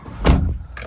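An old car in Zanzibar being unlocked with a key: one loud, close mechanical clunk followed by a couple of small, sharp clicks, with no voices.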